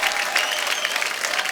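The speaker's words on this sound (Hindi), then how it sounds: "जोरदार तालियां हो जाए एक बार।" Studio audience applause on a Hindi comedy talk show as celebrity guests are welcomed, a dense, steady wash of many hands clapping close and loud, with no talk over it.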